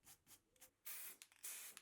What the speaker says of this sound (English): a quick flick of the spray can to apply a fresh coat of matte black paint.